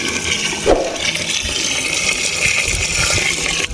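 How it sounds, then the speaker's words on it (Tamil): Water gushes steadily into a large biryani cooking pot, a continuous rushing pour with a brief splash near the start, close and fairly loud with no speech. "தண்ணி ஊத்துறாங்க."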